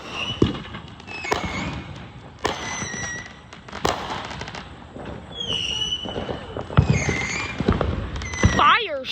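Fourth of July fireworks going off in a string of sharp bangs and crackles, some with whistling rises, several bursts over about nine seconds at moderate distance, with people talking in between.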